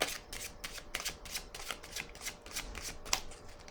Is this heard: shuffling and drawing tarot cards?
yes